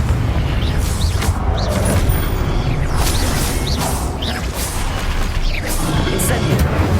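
Confringo blasting spell in the Hogwarts Legacy video game: a dense, continuous wash of booming, rumbling blasts with whooshing swishes, loud and close throughout, mixed with game effects and a voice.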